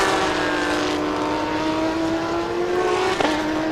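A Lamborghini GT race car engine on a circuit during a Thailand Super Series GT4 and GTM race, a loud steady high drone held near, with a brief pitch dip near the end as it shifts or lifts.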